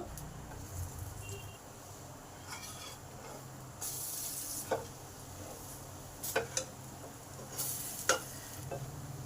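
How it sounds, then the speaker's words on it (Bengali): Lentil fritters (bora) frying in a pan of oil make a soft, low sizzle, broken now and then by brief clinks and scrapes as they are turned. "বড়াগুলো আমার লাল লাল করে ভাজা হয়ে গেছে"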